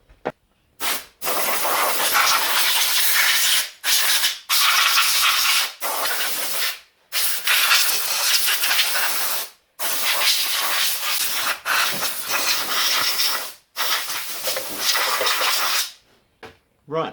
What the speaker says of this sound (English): I'll just give it a bit of a dust out around the plugs